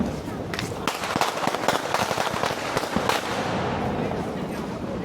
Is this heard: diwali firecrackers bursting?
yes